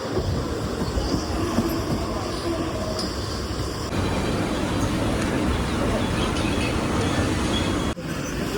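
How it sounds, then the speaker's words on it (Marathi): A Virar slow local train on Mumbai's suburban line rumbles past at close range in the evening, a continuous heavy roll of wheels and carriages that shifts abruptly in tone midway and again near the end, with faint voices in the background. "या आली विरार स्लो"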